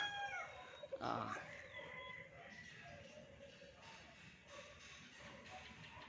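Young roosters (stags) from last year's breeding cluck close by, with one strained, brief crow-like call, over a quiet shuffling background.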